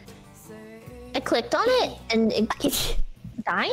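A single loud, close sneeze breaks through a group voice chat during a game session, with people talking just before and after it.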